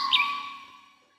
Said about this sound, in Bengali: নিরিবিলি পরিবেশে শুধুই পাখির ডাক